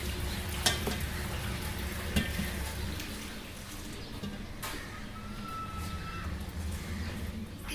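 Potatoes and spinach fry in a pan with a steady, close sizzle, while a spoon stirs them and gives a few light scrapes and clinks against the metal.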